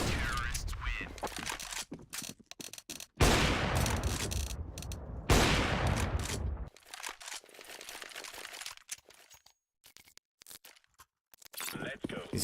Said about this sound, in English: You shooting like that tells the enemy where you are.